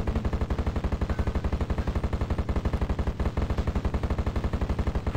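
Grenade weapon firing in Heretic, a rapid, steady stream of repeated shots, loud and mechanical with an even rhythm of about ten per second, continuing throughout with no talk.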